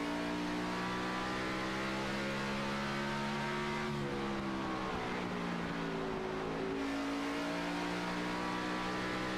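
Race car engines roaring around Bristol Motor Speedway in iRacing, a steady loud droning whine that shifts pitch as the cars brake and accelerate through the corner, with no talk over it.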